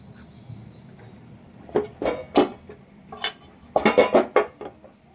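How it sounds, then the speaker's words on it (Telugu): Sesame vada batter is mixed in a bowl, making a series of close, irregular clinks and scraping bursts that grow busier toward the end, over a quiet background. "పిండి ఈ విధంగా కలుపుకోవాలి చూడండి ఈ విధంగా కలుపుకుంటే సరిపోద్ది"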